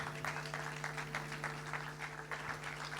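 Steady applause from a church congregation at a Sunday service, dense and continuous, with a sustained organ or keyboard tone holding underneath the clapping throughout.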